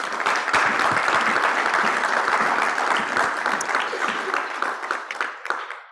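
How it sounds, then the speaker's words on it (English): Audience at a medical symposium applauding after a lecture on operative fracture treatment, a dense, sustained wash of many hands clapping that holds steady for several seconds, then thins and fades out. "for waking up during the clapping"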